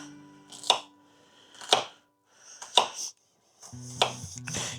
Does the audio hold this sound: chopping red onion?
yes